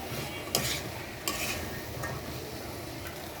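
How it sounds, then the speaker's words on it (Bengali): Chickpeas stirred into fried spice masala in a pan for chhola bhuna, a soft continuous sizzle with a few scraping clinks of the spoon against the pan, close and fairly quiet, no voices. "এখন ভাত দিয়ে রেখেছিলাম ছোলাটা দিয়ে নেড়ে চেড়ে ঢেকে দিব"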